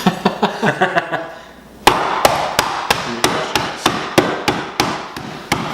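A hammer crushes ice cubes in a steady series of sharp, loud cracking blows, about a dozen hits roughly every half second, close up.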